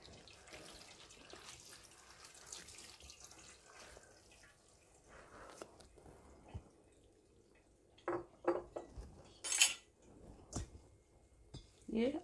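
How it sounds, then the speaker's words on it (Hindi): Cold tap water runs over boiled noodles being rinsed in a kitchen sink, a soft splashing flow with a few louder bursts near the end as the noodles are handled. "नूडल्स को हमने छान लिया है, अब इसमें ठंडे पानी से हल्का सा इस तरह धो लेंगे।"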